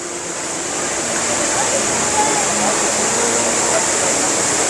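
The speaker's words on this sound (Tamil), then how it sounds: "நடுவில் அழகாக அப்படியே தண்ணி ஊற்றிக்குது" Water pours steadily down the tall indoor waterfall at Singapore airport, a continuous broad rushing wash that stays loud and unbroken throughout, with faint crowd and building ambience beneath.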